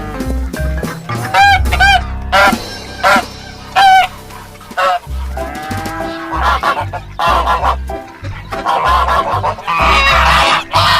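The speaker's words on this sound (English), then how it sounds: "Goose." Farm geese honk in short repeated bursts over a steady background music track, the calls loud and close with brief pauses between them.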